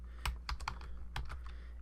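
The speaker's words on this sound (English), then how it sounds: "and then typing this all in as caps" Someone types on a computer keyboard while entering text in Photoshop, with a quick burst of individual key clicks, close and light, in a quiet room.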